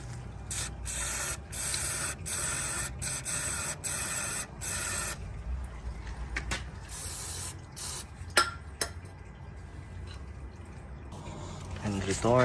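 Repeated short hissing bursts of an aerosol spray cleaner on a Mitsubishi Lancer's ABS parts, several quick sprays in a row, then sparser sprays with pauses and a few clicks.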